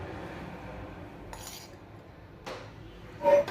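A spoon stirs ghee into bisi bele bath rice, giving a few soft, scattered metallic clinks against the pot over quiet background hiss, with one louder scrape near the end.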